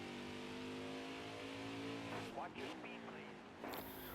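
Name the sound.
race cars passing at full speed in truck racing video game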